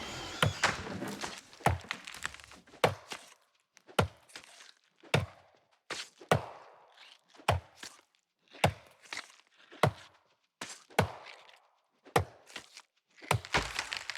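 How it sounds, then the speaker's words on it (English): Repeated wood-chopping thunks from an axe striking a tree in the video game New World, a steady series of sharp, loud chops about every second, alone with no talking. "I see somebody else over here is chopping some wood"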